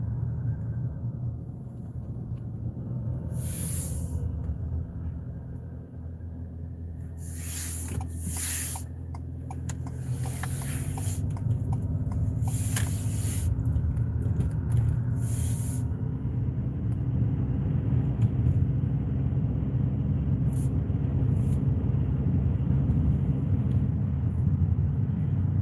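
Steady low wind and road rumble fills the cabin of a 2023 Ford Maverick pickup while driving, with several brief hissy bursts of passing air over a constant droning hum.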